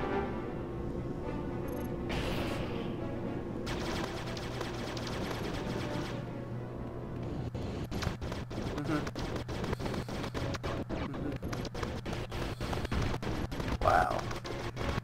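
Gunfire while flying and shooting in the Aquaman: Battle for Atlantis video game, a rapid stream of repeated shots over a steady low hum, growing denser in the second half, with a voice faintly present beneath.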